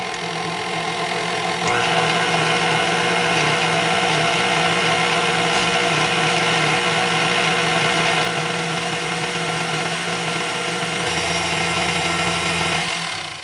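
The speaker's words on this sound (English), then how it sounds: "we're going to pull our mixer down here and we're going to mix this a little and then add the other 2" An electric stand mixer churns bread dough with a steady, loud motor whine and hum that runs continuously from start to finish, with no talking.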